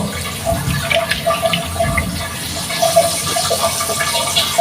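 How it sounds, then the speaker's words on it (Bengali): Lentils (dal) being rinsed in water in a home kitchen, ahead of making dal puri: steady, close splashing and running water that continues without a break for the whole stretch. "পরিষ্কার করে ডালগুলো ধুয়ে নিয়ে সিদ্ধ বসাবো"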